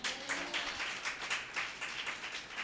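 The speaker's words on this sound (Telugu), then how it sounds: "చప్పట్లు కొట్టండి గట్టిగా" An audience at a Friday fasting prayer meeting claps, heard as a moderate, fairly distant burst of rhythmic applause lasting a few seconds with no talking.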